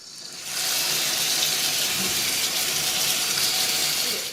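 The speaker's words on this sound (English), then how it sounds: "I'm gonna rinse our hominy" Tap water runs steadily into a sink while hominy is rinsed for Instant Pot menudo, a continuous close splashing hiss that starts abruptly and holds without a break.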